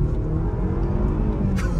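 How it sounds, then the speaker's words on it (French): BMW 1 Series with 300 hp accelerating hard, a loud, dense low engine roar and rumble from inside the car, steady and continuous throughout the short burst. "je vais te faire une petite accel pour te montrer"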